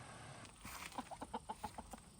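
Chickens clucking at a home in Estonia, a quick run of about eight short rhythmic clucks sounding fairly near over a quiet outdoor background.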